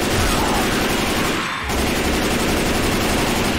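Dense, continuous gunfire from Left 4 Dead 2 rattles on loudly as a steady fusillade, dropping out for a brief instant midway before resuming just as thick.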